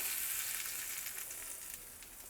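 Bright, crackling sizzle of hot oil tempering poured into chutney, loud and close, fading slightly over a couple of seconds.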